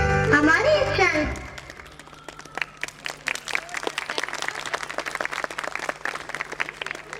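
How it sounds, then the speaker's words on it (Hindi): Applause for children performing at an annual day celebration in 2023: after a brief burst of music, a crowd breaks into dense, lively clapping that continues steadily, loud and close, to the end. "जोरदार तालियां इन प्यारे बच्चों के"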